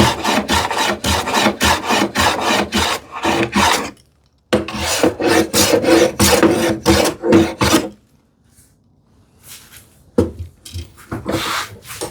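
A hand plane set for a light cut takes shavings from a wooden board, giving repeated rhythmic rasping strokes in two quick bursts, close and fairly loud, with brief pauses between.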